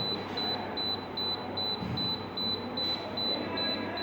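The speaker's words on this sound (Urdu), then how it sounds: "یہ آپ کے سامنے 7320 ماڈیولر ڈیپ سیک ہے، جس کے اوپر الارم چل رہا ہے" A Deep Sea DSE 7320 generator control module sounds a high coolant temperature alarm: a steady, rapid series of short, high electronic beeps over a constant background hum.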